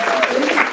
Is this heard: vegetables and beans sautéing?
no